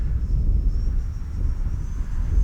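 An Arrows Marlin RC airplane flies at full speed into strong wind, its motor a steady broadband roar overlaid with heavy wind rumble and a faint high whine, continuous and fairly loud throughout.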